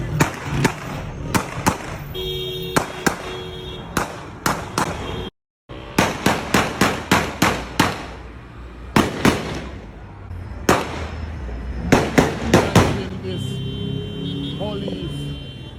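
Rapid, sharp carbine rifle shots crack in irregular bursts during a police shootout, some in quick succession, echoing loudly with short gaps and a brief silence partway through.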